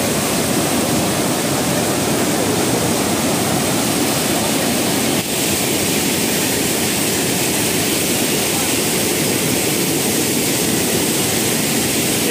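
Floodwater of the Godavari River in Nashik district, swollen by heavy rain, rushing at full force under and over a submerged bridge, making a loud, constant roar that fills the whole stretch.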